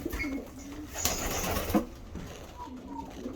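Pigeons in a breeding loft and aviary give soft, low cooing calls, fairly faint, with a brief rustle or flutter partway through and no clear speech.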